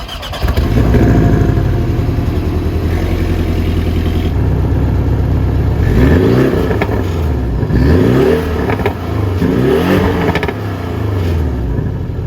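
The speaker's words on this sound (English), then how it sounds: "you do have a twin exhaust tips here, and they sound really, really good." 2021 Porsche Cayman S with twin exhaust tips revving, a throaty close-up engine note that idles, then climbs in several sharp blips and falls back between each rev.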